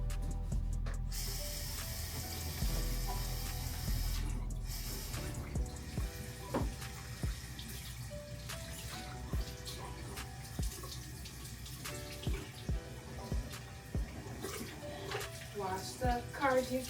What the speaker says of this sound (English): More water.